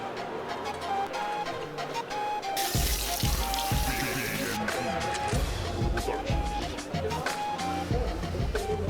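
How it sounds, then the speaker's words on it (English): Water runs in a salon sink while hair is washed, a steady broad rush that swells louder partway through, mixed with clatter and handling noise and a voice speaking nearby. "We're gonna go and wash his hair real quick."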